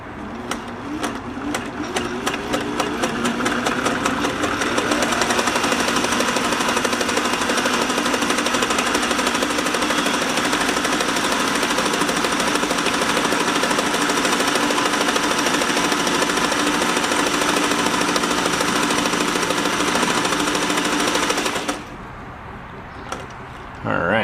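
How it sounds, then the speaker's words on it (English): A Singer 503A sewing machine stitches a double zigzag with its zigzag cam, a fast, steady mechanical chatter close by that runs for about twenty seconds before stopping abruptly. "I'm going to flip it over to our zigzag cam, the original straight stitch zigzag cam, and we'll just do a double zigzag."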